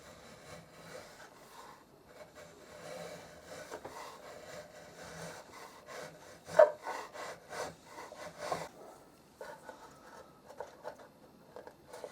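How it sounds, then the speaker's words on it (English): A chisel pares saw grooves out of pallet wood with a run of rough scraping and rubbing strokes, close but fairly soft, with one sharper knock partway through before the strokes thin out. "so I'm going to take those out with a chisel"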